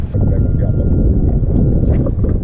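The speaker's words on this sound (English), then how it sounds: "The wind's blowing, wind-blown banks, springtime, throwing a crankbait." Steady wind blows across open water on a lake during a spring bass fishing tournament, a loud continuous low rush buffeting the microphone with faint voices beneath.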